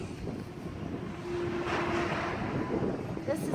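Strong wind outdoors buffets the microphone with a continuous rumbling roar, rising in gusts, while a person speaks briefly over it.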